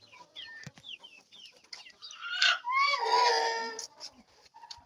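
Three-month-old Turkish shamo chicks chirp and cluck in a busy run of short calls, with a louder, sustained burst of fowl calling near the middle and no talk.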